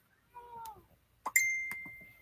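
A house cat gives a short meow indoors, followed by a bright metallic clink that rings on and fades over a couple of seconds.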